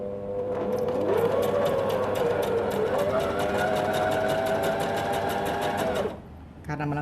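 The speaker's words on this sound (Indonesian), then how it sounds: "Kita akan mulai jahit dari ujung sekali ya." A sewing machine stitches a curved seam on an adult women's pajama, running continuously and loudly with a whirring hum whose pitch rises as it speeds up, then stops abruptly near the end.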